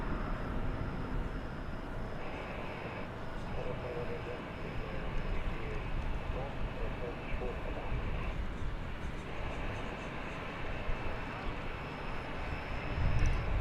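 A Boeing 787 rolling out for takeoff at DFW Airport, a steady distant jet roar that holds at an even level and swells slightly at the end, heard from afar without speech.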